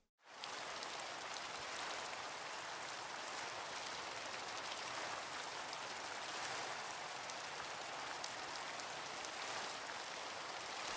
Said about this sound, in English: for the rain, we added sound.